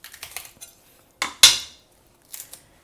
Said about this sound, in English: So I'm going to just cut in small chunks.